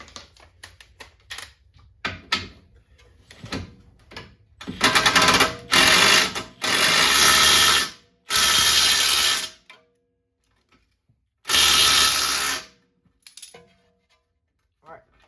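A part is tightened while lowering a Volkswagen Jetta GLI: scattered light clicks give way to several loud, harsh mechanical bursts of about a second each, separated by short pauses.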